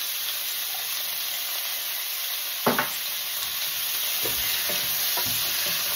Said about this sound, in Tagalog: gisa lang tayo nito